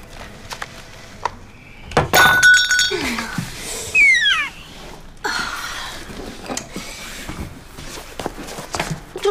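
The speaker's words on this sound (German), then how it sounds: "Tut mir leid, mein Schatz, dass der Mama das Gläschen runtergefallen ist." A small glass jar drops and shatters on an indoor floor in a German crime drama scene, a loud crash with tinkling shards, then lighter clinks and movement afterward.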